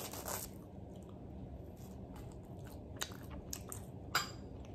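Raw onion being chewed up close during a mukbang-style meal, with soft wet crunching and a few sharper bites and clicks against a quiet background.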